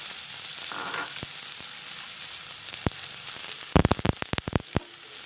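Chopped onion drops into hot oil with curry leaves, and a burst of loud crackling and sputtering rises over a soft, steady sizzle already in the pan.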